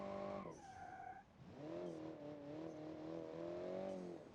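A small turbocharged inline three-cylinder car engine in a car-building video game revs and drops, then holds a steady, slightly wavering drone, faint and alone without talk.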